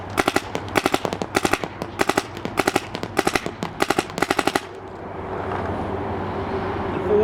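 A Dye DAM paintball marker with a box rotor loader fires in semi-auto, giving a close, sharp run of about a dozen rapid snapping shots in uneven bursts, then stops, leaving a low background hiss.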